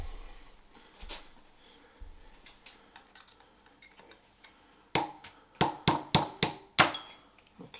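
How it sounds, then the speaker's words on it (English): Hammer striking to punch axles out of a 6-speed C60 gearbox on a hard surface: faint scattered taps, then a quick series of about eight loud, ringing metallic blows, no talk. "I've been punching out these two axles right here on the harder surface just to make things go faster"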